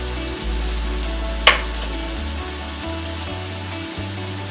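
Drained meat sizzling steadily in a hot pan after a couple teaspoons of oil are added, with one brief clatter of a utensil early on.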